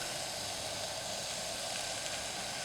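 Garlic sizzles with softened mild onions in a hot pan, a steady, loud, close frying hiss that runs unbroken throughout with no talking.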